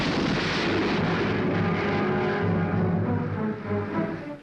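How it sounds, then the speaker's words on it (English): The Trinity test nuclear bomb explosion sounds as a sustained, heavy low roar and rumble on an old archival recording, rolling steadily before fading out at the end, without speech. "Miles into the air rises the giant shape of the now historic explosion."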